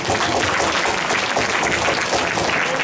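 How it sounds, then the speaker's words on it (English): Sustained audience applause fills a fundraising event for Vân Lê, a candidate for San Jose City Council District 7, as a steady, dense wash of many hands clapping without a break. "Please give me a round of applause."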